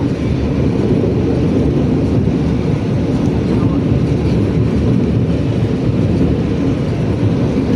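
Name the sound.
Batavia train from Gambir to Jogja running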